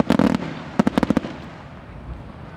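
Extra-large fireworks shells launched from over the sea at the 54th Takeno sea fireworks festival burst loudly, with heavy booms first and then a quick run of sharp cracks, before fading into a low rolling echo.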